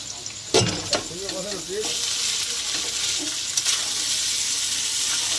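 Rice frying in a spoonful of ghee in a pan for chilli chicken fried rice: a loud, close, continuous sizzle with a few stirring scrapes and knocks near the start.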